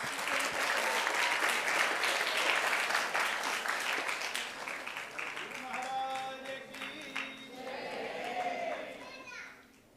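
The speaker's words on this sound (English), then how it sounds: "Give her a big round of applause." An audience claps in a loud, sustained burst of applause that gradually thins out, with a few voices calling out near the end.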